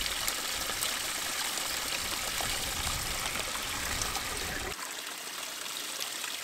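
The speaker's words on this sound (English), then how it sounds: "because this is nice and flowing water" Clear mountain stream water runs steadily nearby, a continuous loud rushing and trickling wash that drops abruptly in level near the end.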